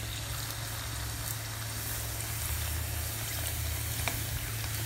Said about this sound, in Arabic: وغادي نلوح هنايا الرغيفات ديالي في حمام الزيت